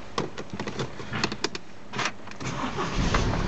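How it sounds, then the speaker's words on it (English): A Mini Countryman Cooper starting: a few clicks and brief cranking, then the engine catches and settles into a low, steady idle, close by and moderate in level. "Vehicle starts nicely."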